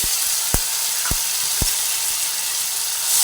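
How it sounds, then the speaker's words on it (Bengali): Grated tomato frying in a kadai for a green pea curry, a steady close sizzle broken by three sharp stirring scrapes of a spoon against the pan. "টমেটোটাও দিয়ে দিলাম টমেটোটাও দিয়ে ভেজে নিচ্ছি"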